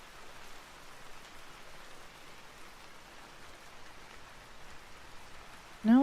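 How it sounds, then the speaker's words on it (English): Steady, soft rain hisses evenly in the Vintage Story video game, with no talk, until a short louder sound cuts in at the very end. "at least the rain sounds nice in this game"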